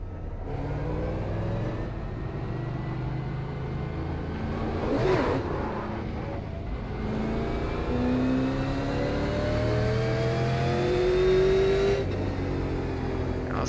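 A Super Late Model race car engine in iRacing at Myrtle Beach drones loudly and steadily, its pitch rising and falling through acceleration and lifts, with other engines whirring past close by.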